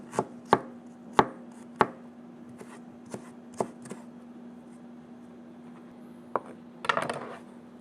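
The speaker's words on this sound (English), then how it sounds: "cut them julienne, cut them in half." Knife chopping papaya into julienne on a cutting board: sharp, distinct taps in an irregular rhythm, close and clear, with a few quieter cuts and a brief rustle near the end.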